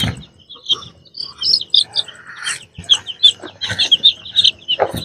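Large chickens and their chicks during night feeding: soft clucks and a steady run of high peeping chirps from the chicks, close and continuous, with no talking.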